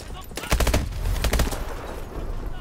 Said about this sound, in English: Why would you run in front of me when I'm shooting?